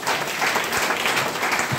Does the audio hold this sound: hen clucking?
no